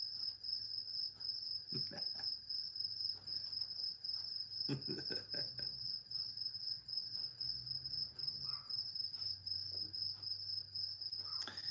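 A steady, high-pitched chorus of crickets chirps continuously throughout, with a few faint knocks and rustles underneath.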